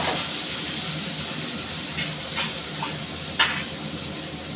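Thinly cut potato and bitter gourd frying in hot oil in a small wok, a continuous hissing sizzle with a few sharp crackles and utensil taps, close and unaccompanied by voices.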